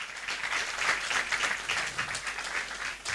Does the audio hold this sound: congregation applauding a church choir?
yes